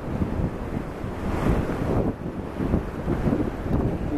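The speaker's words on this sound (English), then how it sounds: "A little bit of high surf here, folks." High ocean surf at the tide pools of Shaw's Cove in Laguna Beach crashes and washes in a continuous broadband roar, with wind buffeting the microphone and no talking.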